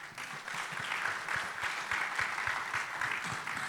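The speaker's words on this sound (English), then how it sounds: "I would like all of you to give a round of applause." Audience applause fills a conference hall after a panel discussion at an Institute of Chartered Accountants chapter event in Dubai, with steady, moderately distant clapping that continues evenly throughout.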